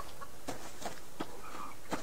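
A chicken clucking in the survival video game Subsistence, several short sharp clucks spaced irregularly over a steady background hiss, fairly faint and without talk.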